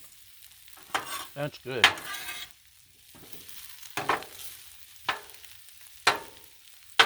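Smoked sausage and vegetables sizzling on a griddle, a steady frying hiss broken by sharp scraping and stirring strokes at irregular intervals, with a brief spoken remark.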